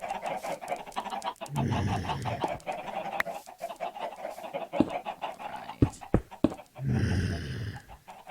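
Flock of birds in Minecraft clucking and squawking in repeated bursts, close and fairly loud, with scattered sharp clicks between the calls.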